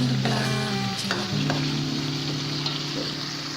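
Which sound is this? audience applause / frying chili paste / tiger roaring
frying chili paste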